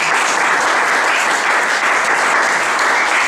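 A church congregation bursts into loud, sustained applause acclaiming the Lord, a dense and steady wash of clapping close by.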